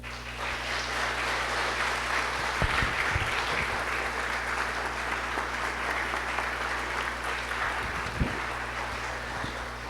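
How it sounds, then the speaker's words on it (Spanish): A church congregation at Sunday Mass during Lent breaks into sustained applause for the catechumens, a dense, even clapping that fills the space for the full stretch and carries a low steady hum underneath, with no voices heard. "Hermanos, démosle un fuerte aplauso a los catecúmenos."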